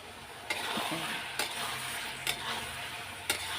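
Mutton and potatoes are sautéed in a pan, giving a constant low sizzle broken by a few sharp scraping clacks as the spoon stirs at roughly one-second intervals.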